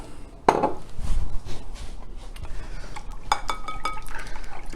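Clinks and scraping of a utensil in a bowl as maple syrup is stirred into croissant bread pudding ingredients, a sharp knock near the start followed by steady clinking and sloshing close by.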